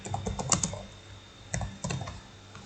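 Keys clatter on a computer keyboard as someone types article text into a website admin panel, in irregular bursts of close, crisp clicks with short pauses, no talking.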